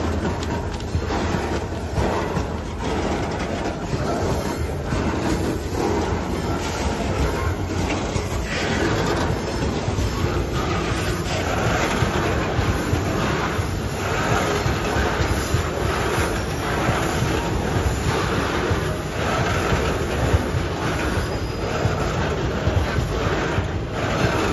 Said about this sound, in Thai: เอาวิ่งตามรถไฟนะเอ้า